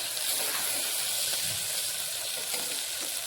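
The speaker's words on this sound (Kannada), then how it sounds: "ಚೆನ್ನಾಗಿ ಫ್ರೈ ಆಗಬೇಕು ರೀ" Ingredients for a thick-rice pulao fry in a pan with a soft, even sizzle and hiss that holds steady throughout, with no talking.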